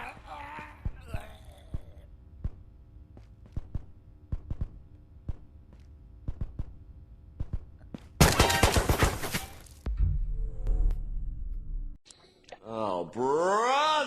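Gunfire in the VR shooter Ghost of Tabor: scattered single shots crack at irregular intervals, then a dense rapid burst of automatic fire, followed by lower rumbling and a voice speaking.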